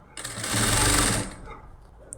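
A sewing machine stitches round fabric piping in one fast, steady burst of about a second, loud and close, then stops with a faint click.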